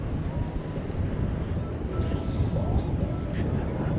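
Strong wind blows on a Dutch beach, buffeting the microphone with a loud, continuous low rumble and roar that swells slightly toward the end.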